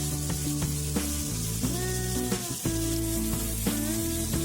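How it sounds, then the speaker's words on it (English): Food sizzles steadily in a hot pan after salt is added, a continuous bright frying hiss with occasional pops and clatter, close and fairly loud, with a faint melodic background tune. "Now I'll fry it for a few minutes"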